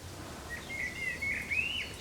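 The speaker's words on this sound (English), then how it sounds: "do you hear the birds around me?" Faint, thin bird song drifts over a low steady outdoor rumble, a few high chirping phrases rising and falling at a distance.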